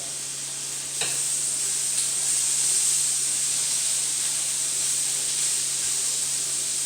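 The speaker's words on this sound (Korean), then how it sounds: "지글지글지글지글 그, 굽니다" Pork belly sizzles steadily on a hot grill, a bright continuous hiss after a brief clatter at the start, close and without any talking.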